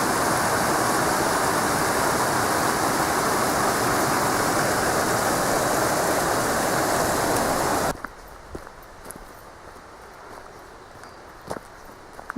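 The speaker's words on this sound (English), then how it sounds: "The water's quite low today." River water rushes loudly through a gorge on the Hafod Estate at Cwmystwyth, a steady broad roar for about eight seconds that then drops away abruptly to quiet outdoor ambience with faint footsteps.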